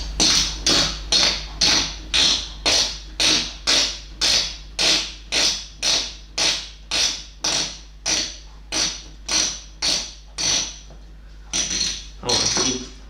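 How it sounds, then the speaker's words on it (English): Screws being tightened while building a PC, a steady, evenly spaced run of about twenty sharp ratcheting clicks, close and fairly loud, that slows and breaks near the end. "So we need to tighten down the screws now."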